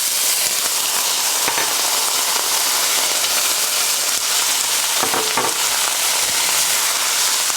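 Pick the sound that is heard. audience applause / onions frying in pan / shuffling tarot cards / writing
onions frying in pan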